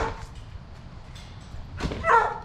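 A dog barks a couple of times, with short sharp yips near the end, close by over a quiet room background.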